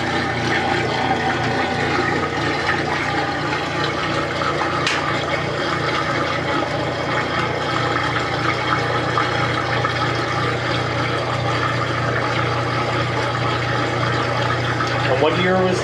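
A 1990 Sharkie's direct drive washing machine draining water, a steady rushing flow with low pump hum and gurgling that swells near the end, while a person talks over it.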